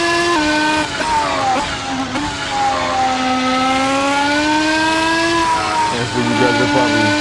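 A race car engine drives at a steady high pitch, rising and falling gently as it holds speed. The sound stays loud and continuous throughout.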